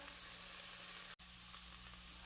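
Soft, aromatic vegetables for tomato soup are stirred in a pot, producing a quiet, even sizzle with faint stirring noises and one momentary dropout midway.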